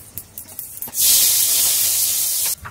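Flour with baking powder and baking soda being sifted for an eggless semolina cupcake: a loud, steady rushing hiss that starts suddenly after a few light taps, runs for about a second and a half, then stops abruptly.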